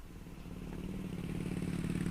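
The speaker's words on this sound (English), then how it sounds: "A motorcyclist is driving down the countryside." A motorcycle rides along a countryside road, its steady engine drone holding loud and close throughout with a low rumbling tone and faint clatter, no voices present.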